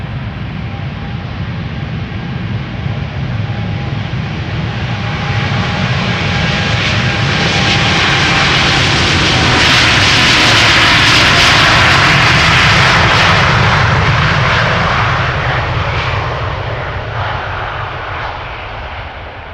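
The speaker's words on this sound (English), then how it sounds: "This is KLM Flight 605 to San Francisco. It is a 787-10 Dreamliner." A KLM Boeing 787-10 Dreamliner, a year old, roars through its takeoff at Schiphol, the broad engine rumble swelling to a loud peak midway and then easing off as it passes, with no talk.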